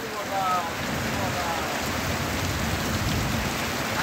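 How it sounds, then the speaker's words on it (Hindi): Heavy rain falls steadily on a village, a dense continuous hiss of drops on surfaces, loud and even throughout with no break. "आज पहली बार हमारे यहाँ बारिश हो गया है अभी"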